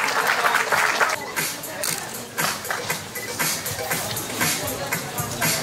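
Winners of the open-class trimming category are applauded at a dog grooming show award ceremony; the clapping is scattered and uneven, rising and falling, with crowd murmur beneath it.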